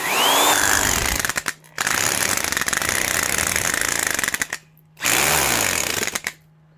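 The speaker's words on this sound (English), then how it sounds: "It's just that impacting action is just pounding against this bearing here." Corded 1/2-inch Porter-Cable drill with an impacting keyless chuck hammering hard in loud, continuous bursts, stopping twice briefly before running up again.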